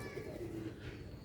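Pigeons kept by a Sialkot pigeon fancier coo softly nearby, giving a low, faint, steady cooing over quiet background.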